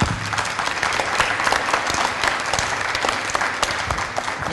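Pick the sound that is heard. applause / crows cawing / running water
applause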